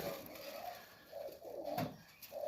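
Junior highflyer pigeons in a loft give soft, repeated cooing phrases close by, a few rolling calls with brief pauses and no voices.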